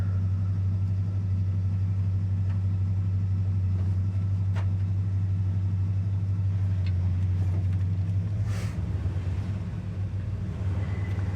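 A 1965 Chevrolet C10 pickup engine idles steadily nearby, a deep, even rumble that holds without a break. A few faint clicks sit on top, and no one speaks.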